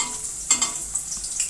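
Onions frying in hot oil for a kadhi tadka, a soft steady sizzle with a few brief stirring clinks and scrapes, close and fairly quiet with no talking.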